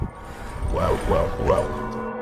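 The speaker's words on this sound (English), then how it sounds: "he hears barking behind him and the chase is on again." Dogs chasing someone outdoors let out three quick yelping barks in a row, fairly close and clear, with a faint background hum and no talking.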